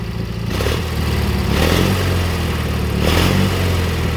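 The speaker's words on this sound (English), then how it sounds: "Got a cool sound to it. Opposed twin flathead." A 1988 Argo Magnum 8x8 with an opposed-twin flathead engine and factory muffler runs close by, a steady, throbbing idle with gentle swells in revs.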